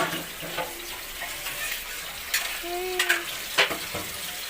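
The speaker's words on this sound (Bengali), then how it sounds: "মা মাছের ঝোল রান্না করছে, এই যে মাছ।" Fish curry cooking in a pan, a low sizzle with a few stirring scrapes and clinks, plus a brief tonal squeak partway through, moderately close.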